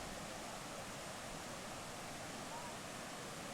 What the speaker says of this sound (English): Big problems with water going over the bridge today.